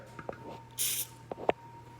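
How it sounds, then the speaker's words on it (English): Pam cooking spray gets a short, light aerosol burst, a bright hiss lasting about a quarter second, with small kitchen clicks and knocks around it. "going to spray the Pam"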